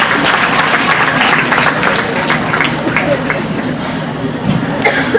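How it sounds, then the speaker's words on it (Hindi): Students at a women's college annual function in Patna applaud loudly and steadily as a big indoor crowd, with scattered coughs and murmurs mixed into the dense clapping throughout. "बिना प्रिंसिपल के कहे ताली बजा दीजिए"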